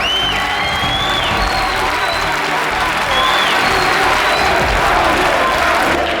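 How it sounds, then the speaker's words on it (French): Crowd applause for a boxer after a fight, a dense steady wash of clapping that swells slightly halfway through, with whistles and faint voices mixed in. "Donc il faut l'applaudir bien fort."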